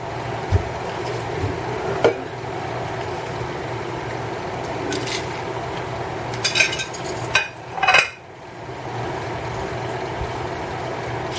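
A spoon stirring sugar into whole figs in a pot for fig preserves, with occasional scrapes and knocks against the pot and a louder clatter near the end over a steady background hum.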